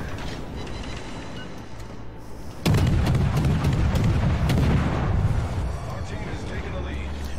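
Naval gunfire from the warship Atlanta in a naval combat video game, arriving as a sudden loud booming burst that rumbles on with clanking, mechanical game noise, with talk faintly underneath.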